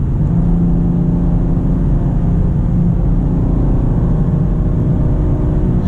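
A 2025 BMW M2, rear-drive, accelerates in first gear on a cool day, producing a loud, continuous close-up engine rumble and whir with no talking.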